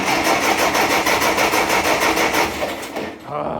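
A starter motor cranks a Massey 65 tractor engine on a weakly charged battery in a rapid, rhythmic churn that stops abruptly near the end; loud and close, without the engine catching.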